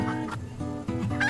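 A white bantam hen clucks and grumbles close by in a run of low, throaty calls, heard alone.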